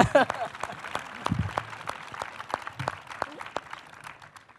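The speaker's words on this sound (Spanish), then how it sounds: "Aplaudidme." Sparse applause from an audience at a debate on prisons, distinct individual claps that thin out over several seconds, with brief speech and laughter at the start.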